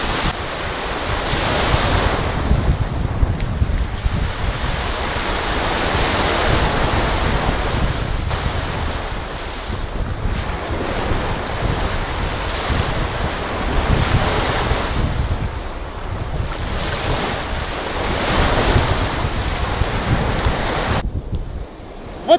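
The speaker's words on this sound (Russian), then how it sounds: "Только шум волн." Sea waves wash onto a sandy beach at Popovka on Donuzlav in Crimea, a continuous rolling surf that swells and ebbs every few seconds, mixed with steady wind buffeting close to the microphone.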